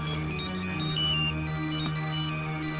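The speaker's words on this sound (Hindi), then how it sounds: "हाँ फोन बजाया था" A phone ringtone plays as a steady, looping electronic melody for a few seconds, clear and moderately loud with a flat, slightly compressed tone and no talking over it.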